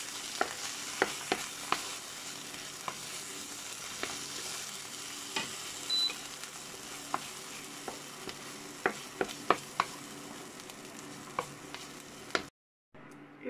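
Vegetables in tomato sauce stirred in a frying pan: soft steady sizzle with repeated scraping clicks of the utensil against the pan, close and alone, ending in a brief silence.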